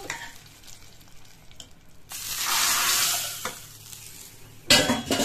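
Fresh curry leaves dropped into hot spinach (palak keerai) kuzhambu after the stove is switched off give a loud sizzling hiss that swells, fades, then flares again briefly near the end, with no talking.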